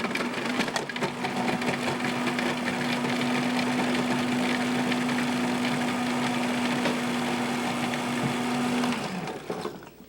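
A food processor's blades whir steadily for about nine seconds, chopping fresh ginger. A constant motor hum runs under rattling, grinding chunks, then the sound winds down abruptly as the machine stops.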